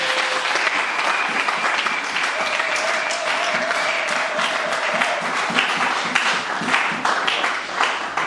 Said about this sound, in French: Applaudissez pour notre Seigneur.